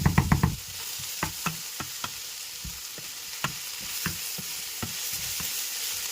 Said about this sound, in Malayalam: അതുകൊണ്ട് നമ്മൾ ഇങ്ങനെ ഇളക്കി കൊടുത്തുകൊണ്ടേ ഇരിക്കണം.